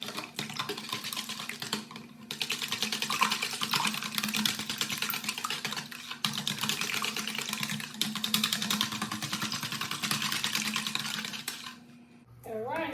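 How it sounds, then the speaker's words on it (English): Whisk beating cornbread batter of milk and cornmeal in a bowl, a steady close scraping rattle for most of the stretch with a brief pause partway, fading out near the end. "I'm going to use my whisk to whisk everything together."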